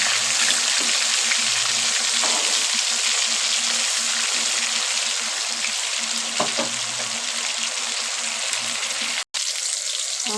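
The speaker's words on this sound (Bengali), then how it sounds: "মাছ ভাজা হয়ে গেছে, এক পিস করে উল্টে দিই।" Fish pieces frying in hot oil give a steady, dense sizzle that runs without a break, with a couple of brief soft knocks as pieces are turned over, close by and with no talking.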